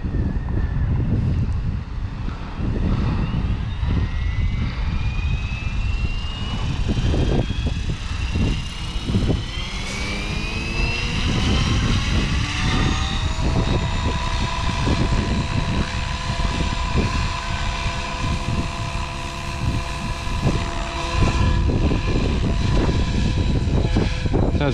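An SAB Kraken 580 RC helicopter hovers on its first flight, a loud, continuous rotor and motor whine with rising and falling pitch sweeps and gusty wind buffeting the microphone.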